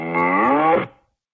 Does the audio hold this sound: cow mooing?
yes